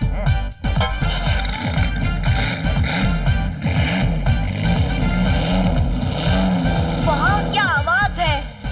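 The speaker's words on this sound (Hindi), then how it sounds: "अब इसका साइलेंसर का आवाज तो सुनो" Cartoon car's exhaust silencer and engine, a loud, continuous rumbling, sputtering drone with shifting pitch that runs the whole stretch, with a short burst of chirpy squeaks near the end.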